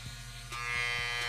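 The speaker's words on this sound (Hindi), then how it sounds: "इस बच्चे ने ट्रिमर अपने हाथ में ले लिया और बाल काटने लग गया" An electric hair trimmer held by a child cuts hair, giving a steady close buzzing hum with a few brief changes in pitch as it presses through the hair.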